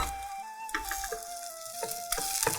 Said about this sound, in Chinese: 开了中火，然后慢慢来煎炒这一个腊肠跟洋葱